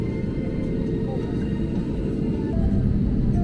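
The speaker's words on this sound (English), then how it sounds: "Spool up, and takeoff is coming next." Engines of a Vistara Airbus A320neo spool up on the runway at Kolkata before takeoff, heard from inside the cabin as a steady loud roar that swells slightly toward the end.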